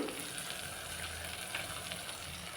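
Green chillies sauté in a pan for baby jackfruit biryani, a soft, even crackling sizzle heard close and without pause.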